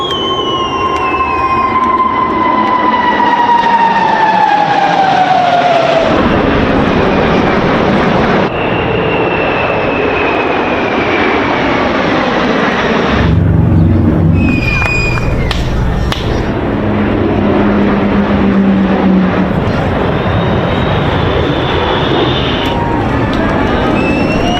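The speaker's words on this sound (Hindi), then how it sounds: "न्यूयॉर्क में कैसे आसमान में अमेरिकी विमान गर्जना कर रहे हैं" Roaring jet aircraft pass low over New York during an American Independence Day celebration flyover, a loud continuous engine rumble with shifting pitch sweeps as planes go by, no talk.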